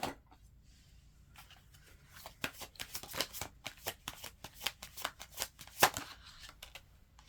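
A deck of tarot cards is shuffled by hand, a steady run of crisp riffling bursts that flutter in quick, irregular succession, close and fairly quiet, with no talking.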